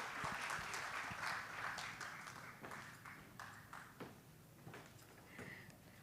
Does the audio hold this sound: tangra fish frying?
no